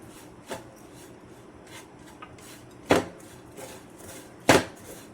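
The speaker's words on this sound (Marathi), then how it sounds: "भाजलेलं छान खोबरं घालून घ्यायचं परत हे हलवून मिक्स करायचं सर्व" A spoon stirs roasted dried coconut and jaggery in a pan. Soft rubbing scrapes are broken by three sharper scraping strokes spaced a second or two apart.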